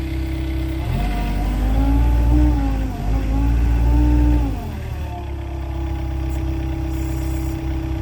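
A tractor engine runs while huge post-and-beam timbers are set, a loud steady mid-pitched drone that rises and falls in pitch with throttle changes before settling to a lower idle.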